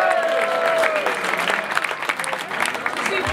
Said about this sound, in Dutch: Mag ook wel even voor een applaus hier.